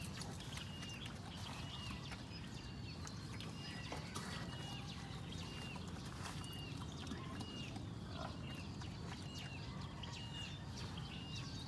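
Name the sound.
pigs and piglets in farm pen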